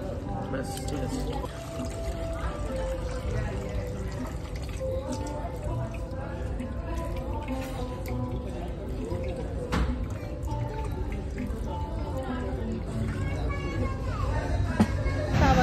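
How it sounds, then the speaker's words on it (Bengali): Water is poured over hands for washing after a meal, a steady splashing stream running throughout, heard close under continuous conversation. "আমাদের হাত ধোয়ার জিনিস এসে গেছে"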